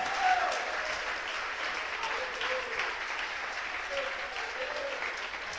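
A church congregation claps together in sustained, dense applause, heard at a moderate distance in a reverberant hall with faint voices mixed in.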